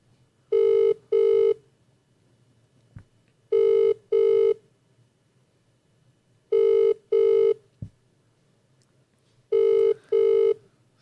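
A telephone call rings out over a speakerphone in four evenly spaced double rings, each pair of buzzing tones loud and clear, separated by quiet gaps with faint background noise.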